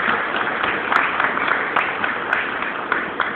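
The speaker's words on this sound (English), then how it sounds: "give yourselves a round of applause for that" Audience applause at a banquet, a dense steady patter of clapping from a crowd filling the whole stretch, with a few sharper individual claps standing out.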